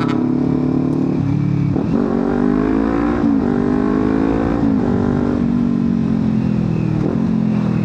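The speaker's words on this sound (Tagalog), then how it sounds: "So yun po yung tunog ni Ninja 400 pag hinahataw-hataw natin sa daan." A Kawasaki Ninja 400 motorcycle engine revs steadily and loudly, its pitch rising and dropping through repeated gear shifts as it rides hard along a road, with no talking.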